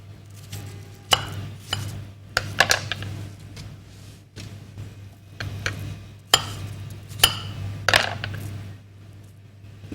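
Watermelon being cut into small pieces on a board, with sharp, irregular knife chops close by, some in quick pairs and others spaced out, over a steady low hum.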